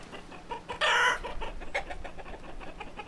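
Chickens in the Banished village-building game cluck close by, with one louder squawking burst near the start and then short, scattered clucks.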